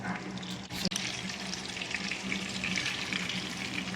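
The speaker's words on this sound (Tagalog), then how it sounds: "Iprito po natin siya sa butter." Tuna steak fries in melted butter in a pan, giving a steady close hiss and crackle with one brief knock near the start, no voices.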